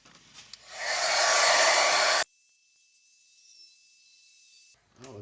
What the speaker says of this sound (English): So what we'll do here is get my little heat gun rolling.